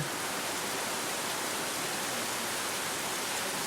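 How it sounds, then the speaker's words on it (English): Steady heavy tropical rain in Hawaii pours down in a dense, continuous hiss with no voices, close and even throughout. "some of the sounds of this rain. That's a tropical rain."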